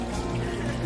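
Small waterfall with running water, a steady close trickling and splashing rush filling the brief moment with no voices.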